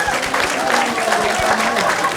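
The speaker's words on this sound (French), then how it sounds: "nous pouvons les acclamer" Applause from an audience at a concert by a band, a dense, steady wash of clapping that carries on evenly throughout with crowd noise mixed in.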